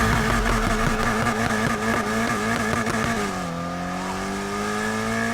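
A Rocket Bunny Subaru BRZ drift build with a manual gearbox launches hard off the line in Need for Speed Heat, its engine revving loudly and steadily, then pitch dropping at a gear change before climbing again, with no talk.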